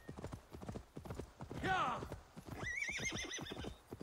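A horse neighs and hooves clatter amid busy sound effects in Assassin's Creed Valhalla, with a second whinny following, all fairly close and layered over background noise.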